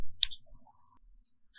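Sparse, quiet clicks of a computer keyboard as a registration number is typed into an online form field, a few isolated keystrokes spaced irregularly with near silence between them.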